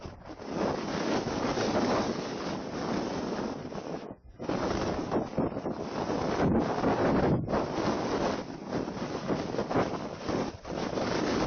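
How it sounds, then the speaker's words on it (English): Wind buffets a camera microphone outdoors on a stormy day, producing a loud continuous roaring rumble with brief dropouts and gusty surges, no speech over it. "I can hear the wind on this camera."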